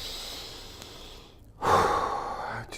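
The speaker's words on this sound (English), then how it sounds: "I'll take a breath" A single audible breath drawn in to stay calm, close to the mic, a soft rush of air after a brief hush, then fading.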